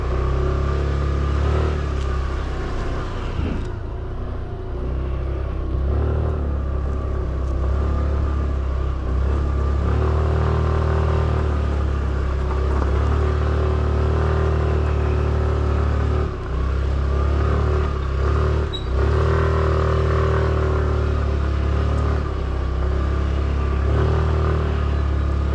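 A vehicle engine runs steadily at close range for the whole stretch as it drives up toward a village house, a constant low rumble with small shifts in pitch and no talking.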